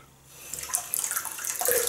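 Synthetic shaving brush rinsed under warm running tap water, a close splashing gush that starts softly and grows fuller and louder, with no talk.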